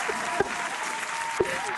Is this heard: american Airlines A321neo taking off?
no